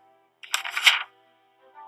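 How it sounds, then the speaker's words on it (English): A single crisp paper page turns in one quick rustling sweep, close and clear against silence. "This is the sound of a page turning."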